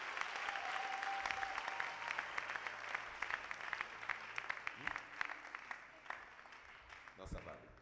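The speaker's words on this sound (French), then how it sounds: "Il faut bien acclamer pour le Seigneur" A church congregation claps for the Lord in a dense, rapid patter of many hands. A voice speaks over the applause, and the clapping thins out toward the end.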